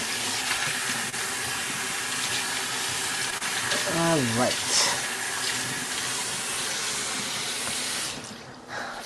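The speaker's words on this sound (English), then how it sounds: "my water running can sound like sizzling, but it's just water" Tap water runs steadily into a kitchen sink, a constant hissing stream that sounds almost like sizzling, with a brief voice over it partway through.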